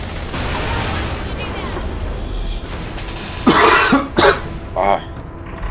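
A few loud coughs and throat-clearing bursts stand out over steady background murmur during a Saints Row: The Third gameplay recording, clustered near the end of the clip.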